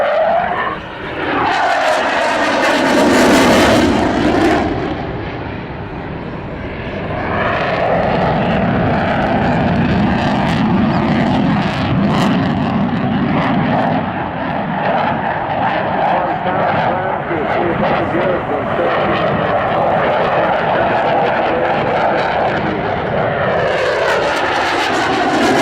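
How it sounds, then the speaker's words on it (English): A fast jet roars past at an air show, a loud sweeping engine rush that builds, peaks and holds as a sustained rumbling blast, with a commentator talking over it. "The aircraft, of course, capable of flying up to Mach and greater than 2, so twice the speed of sound."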